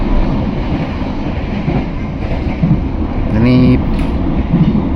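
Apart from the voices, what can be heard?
KA Motis train running on rails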